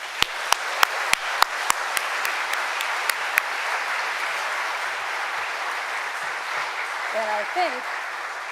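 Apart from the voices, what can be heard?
audience applause at awards ceremony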